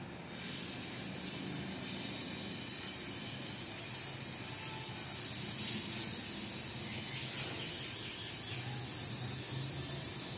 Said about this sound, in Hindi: गैस भरी जा रही है, कितनी गैस,